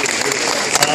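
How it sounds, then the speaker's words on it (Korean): Applause from a festival audience at a filial-piety celebration in Sejong City, a brief dense burst of clapping that fills the moment under a murmur of voices. "큰 격려의 박수 부탁드리겠습니다."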